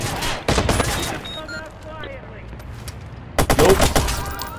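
AK rifle gunfire in the Watch Dogs video game comes as two loud bursts of rapid automatic shots separated by a quieter gap with faint game sounds.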